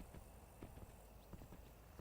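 Hooves of a ridden horse clip-clop in a Godot-made video game, sharp irregular taps in quick succession, quiet and alone without talk.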